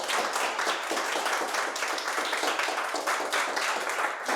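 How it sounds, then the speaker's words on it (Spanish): A fitness academy audience gives a strong round of applause at a book presentation, dense steady clapping from many hands, loud and continuous throughout. "un fuerte aplauso"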